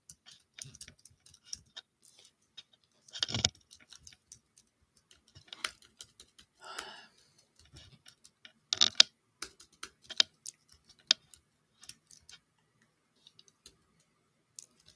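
Typing on a computer keyboard with cords draped over it: scattered soft clicks and keystroke bursts, irregular and fairly faint, with a few louder clacks and no talking.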